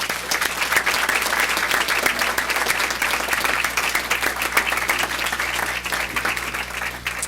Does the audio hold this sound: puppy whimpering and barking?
no